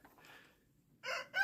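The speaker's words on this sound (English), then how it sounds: "Birds are calling to us." A chicken or rooster calls in two short, bright bursts near the end outdoors at a job site, the first call faint, then louder.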